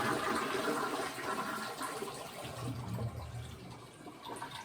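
A toilet flushes after cleaning, a close rushing gush of water that tapers into a gurgling refill, moderately quiet and alone.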